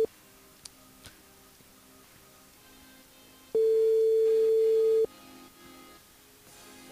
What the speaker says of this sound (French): on appelle Camille sur le standard de l'émission